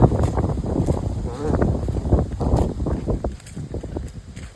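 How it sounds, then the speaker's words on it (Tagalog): Strong wind buffets an outdoor spot where a V-shaped kite is being test flown, rushing as a steady broadband roar close to the microphone, with voices talking over it throughout. "Malakas ang hangin."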